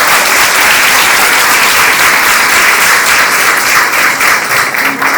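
A church congregation at a Sunday service loudly applauds Pastor Neto Sanoli with sustained, close, dense clapping that stays level from start to finish.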